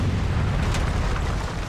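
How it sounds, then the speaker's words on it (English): Explosions rumble in a Civil War video game, a dense, continuous roar of booms heard loud and close throughout, with no talking. "More explosions."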